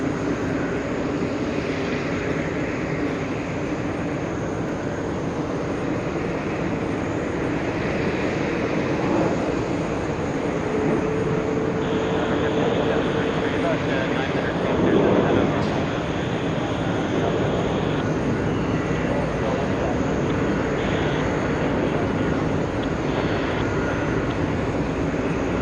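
A Caribbean Airlines jet at JFK airport rumbles steadily as a broad, continuous roar, fairly close, holding level with a slight swell midway, with no talk over it.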